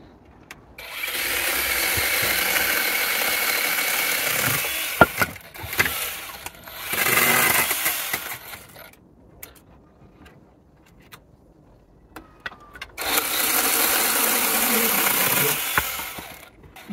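An 8-inch cordless mini chainsaw cuts a sycamore branch, its motor whining loudly in sustained bursts with brief pauses and a longer gap before a final cutting run, close by.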